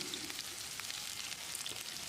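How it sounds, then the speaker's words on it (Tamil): A faint, steady sizzle of onions frying in a pan, with soft crackles and pops and no talking. "வெங்காயத்தை லேசாக செவந்து வர்ற அளவுக்கு வதக்கிடலாம்."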